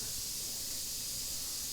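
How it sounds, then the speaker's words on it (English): An air compressor switched on in a knife-finishing workshop gives a steady, unbroken hiss of air at moderate level, with no voices. "So we turn on the air compressor,"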